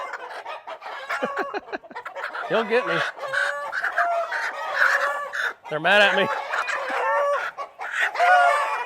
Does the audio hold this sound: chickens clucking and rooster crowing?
yes